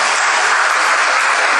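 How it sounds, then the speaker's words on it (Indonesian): A church congregation claps together in a dense, steady burst of applause, loud and even from start to finish with no voices rising above it. "Tepuk tangan buat dirimu sendiri"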